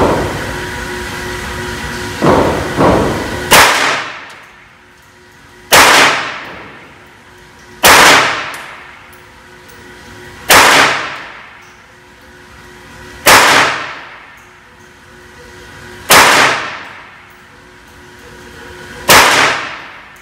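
Beretta 950 pistol firing .25 ACP MagTac 50 grain standard pressure rounds, seven sharp loud cracks spaced about two to three seconds apart, each trailing a brief echo, with no talking.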